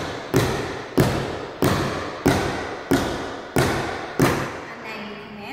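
Tap shoes struck on the toes during a beginner adult tap class, giving a bright, tinny tap. Seven loud, close, evenly spaced hits land about every 0.6 seconds with no talking.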